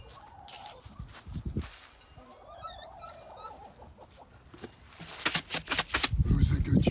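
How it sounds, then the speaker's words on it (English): Chickens cluck and fuss nearby in a small backyard flock, with a rising burst of louder clucking and scratching near the end; people murmur in the background. "Are these chickens making too much noise?"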